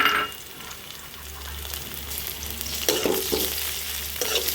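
Shrimp go into a hot pan of oil and fry with a continuous loud sizzle, crackling and spitting, with stirring scrapes building toward the end.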